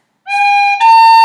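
A tin whistle plays the opening section of a traditional Irish tune, Scatter the Mud, as a clear, close solo of about a second: one sustained bright note, then a quick step up to a second held note.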